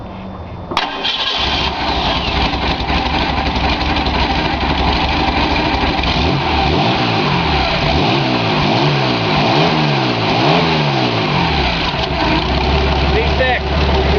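A Ford 2.8 V6 swapped into a 1974 Mazda pickup cranks and fires up, then settles into a loud, steady idle broken by several rising and falling revs, close and alone.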